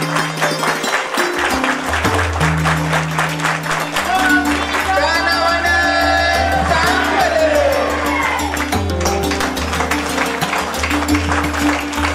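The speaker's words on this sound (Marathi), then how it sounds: "टाळ्यांचा आवाज कमी करतोय" A crowd applauds at a felicitation ceremony honouring successful farmer groups, steady loud clapping with some cheering, mixed with music and a voice over the crowd.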